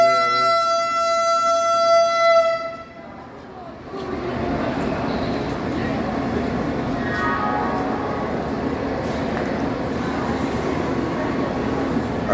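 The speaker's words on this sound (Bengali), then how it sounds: "গাড়িটা আস্তে আস্তে রওনা দিয়েছে পুরীর উদ্দেশ্যে" A Vande Bharat express on the Howrah–Puri route sounds a sustained horn for a couple of seconds, then rumbles and rolls steadily as it pulls slowly away from the platform, with a brief higher whine partway through.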